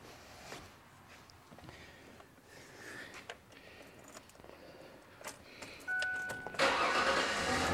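A car engine cranks and catches after some faint clicks and handling noises. The air conditioning then comes on at max, and its fan adds a loud, steady rush over the idle.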